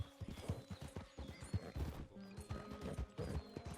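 Horse hooves clip-clop in the video game Red Dead Redemption 2, a steady quick rhythm of close hoof hits under game ambience and faint rumbling.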